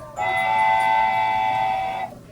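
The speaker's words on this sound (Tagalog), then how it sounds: "Tren." A single steady train whistle blows for about two seconds, a bright sustained chord, loud and clear, then cuts off.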